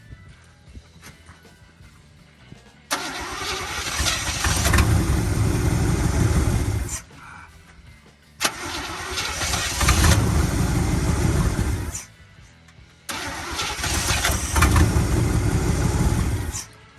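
A 1965 Acadian Beaumont engine, neglected for years and fitted with a new fuel filter, fires up in three loud running bursts of roughly four seconds each. Quieter idle-level gaps separate the bursts.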